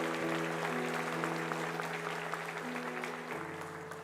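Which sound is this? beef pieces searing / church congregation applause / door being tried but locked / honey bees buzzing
church congregation applause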